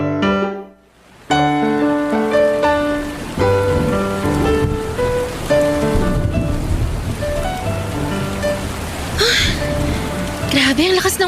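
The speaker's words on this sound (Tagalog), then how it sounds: "Grabe, ang lakas ng ulan." Heavy rain pours steadily under a waiting shed in the Philippines, a dense hiss running throughout while speech and a music bed sit on top of it.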